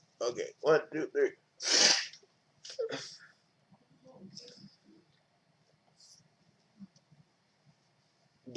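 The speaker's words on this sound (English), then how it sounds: "Oh no, I gotta blow my nose." A person blows their nose in one sharp, forceful honk, turned away from the microphone. Vocal sounds come just before it, then quiet rustles and faint clicks follow.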